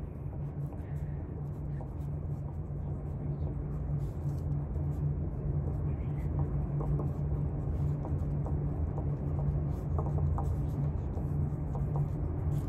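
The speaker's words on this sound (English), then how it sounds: "I'm gonna write Happy Valentine's Day." A pen scratches steadily across a folded paper card while a Happy Valentine's Day message is handwritten, a close, continuous scribbling under a low constant hum.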